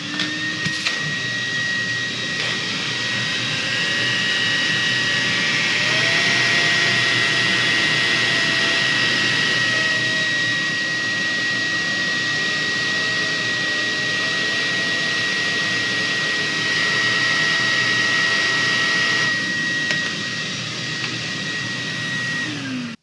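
A workshop dust extraction system, the main setup alongside a HEPA vac and a big pneumatic unit in the corner, runs as a steady, loud broadband roar with a constant whine throughout, with no talking.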